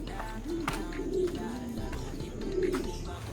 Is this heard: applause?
no